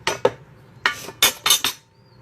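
A knife slices a sweet potato into small pieces on a cutting board, giving about six sharp, close taps in irregular bursts with short pauses between them.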